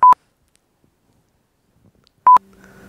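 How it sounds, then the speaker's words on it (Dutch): A phone sounds two short electronic beep tones about two seconds apart, loud and close, with a quiet pause between them. "Je telefoon gaat."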